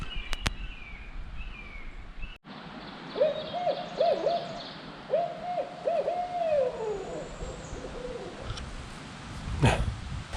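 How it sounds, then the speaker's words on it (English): A barred owl hoots from a tree in a rhythmic series of calls at moderate distance, outdoors on a hike among mountain laurels, with a few faint bird chirps and a brief thump. "Yeah, that's a barred owl. He's calling to the other one down there."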